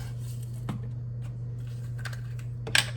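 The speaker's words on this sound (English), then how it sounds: "I'm going to cut my onion up" A knife cuts up an onion for a homemade veggie pizza, with a few soft, irregular taps and crunches over a low steady hum, close by and without talking.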